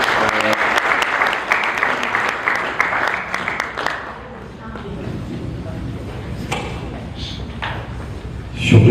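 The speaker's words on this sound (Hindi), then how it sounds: "हमारे भरपूर तालियों में इस्तकबाल कीजिए" Applause from an audience welcoming the chairman of a literary gathering at a Houston event, dense and loud for about four seconds, then thinning into scattered claps and room noise before a sudden thump at the end.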